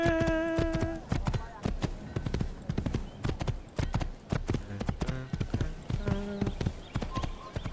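Horse hooves clip-clop in rapid, uneven beats in Assassin's Creed, loud and close, with tonal game sounds and a brief whinny-like cue mixed in.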